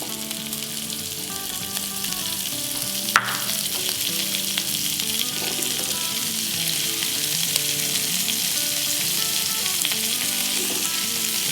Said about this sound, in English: we're gonna add our veggies into the skillet